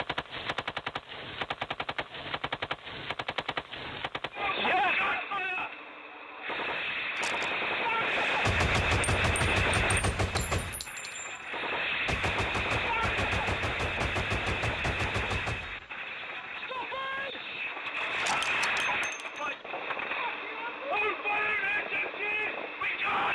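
Heavy machine guns fired by Welsh Cavalry troops in Afghanistan, long sustained rapid bursts broken by short pauses, loud and close with harsh clattering reports, at times with other guns firing in the background.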